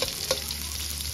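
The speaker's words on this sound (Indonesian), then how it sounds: "Setelah minyak goreng panas, kita masukkan irisan bawang bombay yang sudah kita persiapkan tadi." Sliced onion hitting hot cooking oil in a wok, a brief steady sizzle with a small stirring clink, close and alone.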